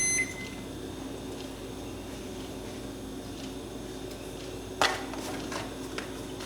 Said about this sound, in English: that sound means the oven is preheated